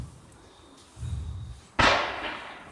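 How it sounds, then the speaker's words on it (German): A 20 mm coloured roman candle fires outdoors: a low thump, then a sharp, loud pop with a crackling, hissing tail, standing alone against quiet background. "dann gehen wir zu den 20 mm römische Lichter, 10 Schuss, die 18, 4 Stück geschossen, in Bunt"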